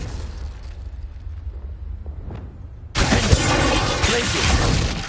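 Expelliarmus spell cast in Hogwarts Legacy: a quiet lead-in with a faint swish, then a sudden loud, bright burst that carries on as a crackling blast to the end.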